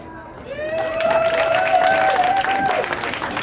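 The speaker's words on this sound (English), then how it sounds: "give a big round of applause for our friend" An audience at an erotic poetry and music festival applauds and cheers for a performer, crowd noise swelling into sustained clapping with a long whoop or voice rising over it.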